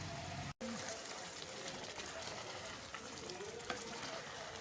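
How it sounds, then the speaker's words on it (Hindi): Chicken karahi sizzles and fries steadily in a pan, a low continuous crackle with faint stirring, close and fairly quiet throughout. "5 मिनट भूनते हैं इसे।"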